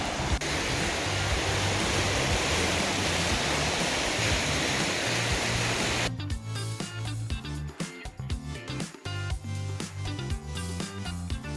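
Waves wash against the Lake Michigan shore at Racine, a loud continuous surf hiss for about six seconds, then overtaken by music.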